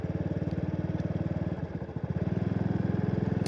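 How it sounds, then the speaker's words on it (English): A tractor plowing a field in rural Yangpyeong, Korea, its engine chugging in a steady rapid rhythm at a moderate distance, loud and continuous with a brief dip midway, no talking. "He's doing it with a tractor."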